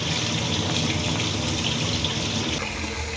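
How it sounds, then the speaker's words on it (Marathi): Water from soaked wheat pours through a sieve, a steady close splashing gush that runs without a break. "चाळणीच्या सहाय्याने आपल्याला हे सर्व जे पाणी आहे ते काढून घ्यायचे आहे"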